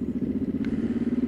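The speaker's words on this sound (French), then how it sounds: "La moto marche bien." A motorcycle engine running steadily while riding along a quiet country road, a close, continuous pulsing rumble with no talk over it.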